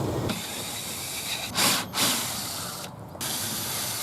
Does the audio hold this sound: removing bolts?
yes